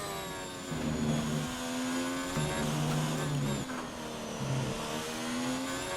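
Formula 1 car engine in the F1 2019 racing game, revving high at the Austrian track, a steady loud whine with rising and falling pitch and several throttle surges, no talking.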